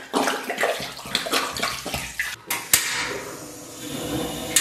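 Cooking wine pours into a pot holding pork belly and water, with uneven splashing and gurgling punctuated by a few sharp clinks and knocks, close by and fairly quiet.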